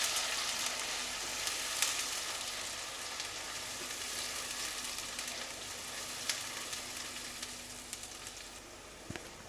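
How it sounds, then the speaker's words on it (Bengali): Onion paste fries in hot oil and ghee with a steady, close hiss and sizzle and occasional small pops and crackles. "পেঁয়াজ বাটাটা একটু ফ্রাই করে নেব।"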